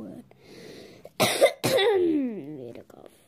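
Two sharp coughs in quick succession, close and loud, followed by a drawn-out vocal sound that trails away.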